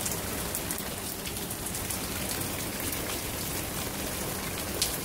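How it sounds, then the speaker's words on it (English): Heavy rain pours during Hurricane Harvey, a dense, steady hiss of drops hitting surfaces, loud and unbroken throughout with no voices. "Also, how much rain is that?"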